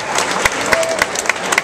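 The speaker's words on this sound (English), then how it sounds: "So round of applause." A crowd applauds steadily at the grand opening of a Disney Store at Glendale Galleria, with dense, sustained clapping and a few sharper claps standing out near the listener.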